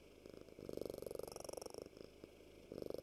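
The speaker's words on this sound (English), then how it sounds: "She just has a really loud purrs." A cat purrs loudly right up against the microphone, a steady rapid rumbling rhythm that swells and pauses briefly before resuming, close and continuous with no talking.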